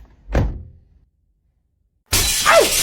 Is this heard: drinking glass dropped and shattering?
yes